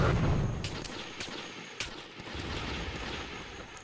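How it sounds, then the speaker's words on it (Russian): Distant explosive-shell cannon bursts fire at irregular intervals over a constant rumble of noise, faint and muffled, in a video game battle. "Разрывная пушка."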